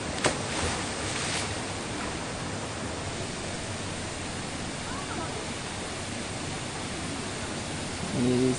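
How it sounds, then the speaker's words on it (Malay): Steady rushing river water at the Rock Lemon campsite in Negeri Sembilan, a broad continuous wash of flowing water close by that carries on without a break, with a brief faint voice near the end. "Ni suasana sungai."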